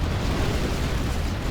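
A nuke cannon shell detonates in a real-time strategy battle on the Gorge Drought map, a dense, sustained low boom and rumbling roar that fills the clip at steady loudness without speech.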